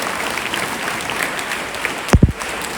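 A large crowd of schoolchildren at a school event applauds loudly. The clapping is a continuous, dense wash that stays steady throughout, broken near the end by two quick thumps.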